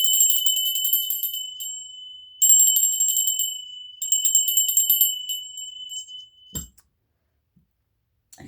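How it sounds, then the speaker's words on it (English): A bell rung to clear energy, struck repeatedly so bright, sustained metallic tones ring out in three main bursts with shimmering overtones, decaying between strikes, then a dull knock and near silence. "Let's ring the bell to get rid of some of that other energy."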